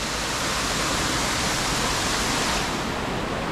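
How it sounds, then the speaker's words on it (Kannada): A waterfall in dense forest roars in a dense, unbroken rush of falling water, loud and steady throughout with no voices. "ಏನಪ್ಪ ಇಷ್ಟೊಂದು ಚೆನ್ನಾಗಿದೆ ವಾಟರ್ಫಾಲ್ ಅಂತ"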